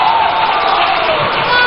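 A large crowd at an NDC manifesto launch rally in Winneba cheers and claps for a dignitary, a steady wash of applause and shouting that sounds close and loud throughout.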